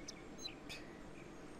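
Bird chirps in the Viva Pinata garden game: a few short, faint tweets over low, steady background hum.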